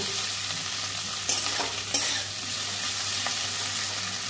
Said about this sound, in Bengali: বড়িগুলো নামিয়ে নিচ্ছি, আলুগুলো ভেজে নেব